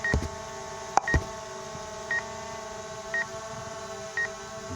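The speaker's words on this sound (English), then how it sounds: "Well, it's that beeping thing." A DJI Mavic Air 2 drone gives short electronic beeps at regular intervals of about one second, with a few sharp clicks and handling knocks early on.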